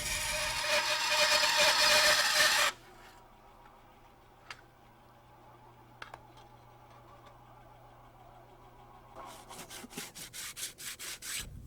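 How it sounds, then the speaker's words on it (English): Bandsaw slicing a tube lengthwise into two halves, a loud steady rasping cut that stops abruptly, then quiet with a few faint knocks before a rhythmic rubbing resumes. "Turn on the saw and slide the tube along the board."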